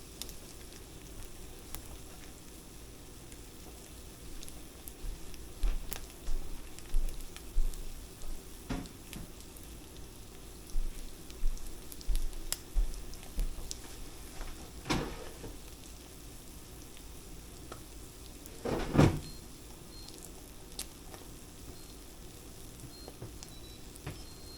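A copycat McGriddle pancake sizzles steadily on a griddle, a soft continuous fry with small crackles and a few louder pops and scrapes, with no talking.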